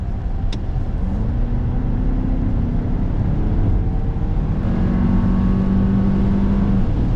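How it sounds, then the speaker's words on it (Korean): A Toyota Crown 2.4 Dual Boost Hybrid accelerates in sport mode, heard from inside the cabin as a steady road and engine drone whose pitch climbs gradually, loud and continuous with no talking. "앞에 차량이 없어서 다시 한번 스포츠 모드로 변경하고 가속을 해보겠습니다"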